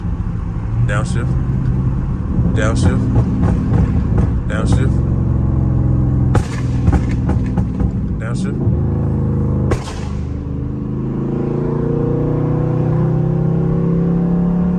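A Dodge Charger Scat Pack engine rumbles loudly from inside the car at night, with a sharp downshift blip and revving surges, as people talk over it.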